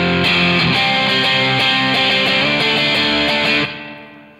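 A cheap Revol distortion pedal drives an electric guitar into a thick, saturated sound, with a loud run of sustained chords ending in a fading decay and no talking.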